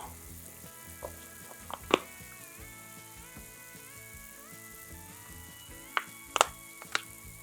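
Garlic frying in a pan for a Newfoundland fish and potato fry gives a steady close sizzle, with a few sharp clinks and scrapes of utensils against the pan.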